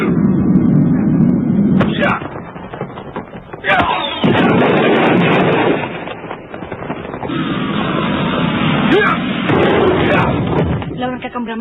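Loud, booming blasts burst out repeatedly over a dense rumbling roar, with sharp cracks and crackling debris between them, like a staged explosion effect in an Indonesian radio drama.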